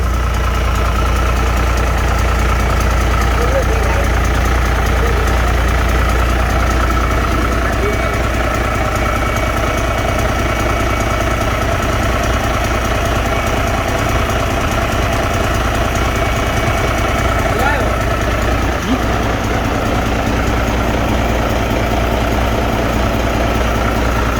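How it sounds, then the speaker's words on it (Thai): A Yanmar-type 6HE195 diesel engine idles loudly during a test run, a heavy steady low rumble with a faint knocking chatter, close and continuous, with some voices under the noise. "นนี้เครื่องยนต์ครับผม"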